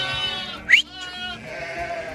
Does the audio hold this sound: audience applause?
no